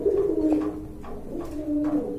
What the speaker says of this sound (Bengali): আর এখানে কিন্তু এক জোড়া কবুতর রয়েছে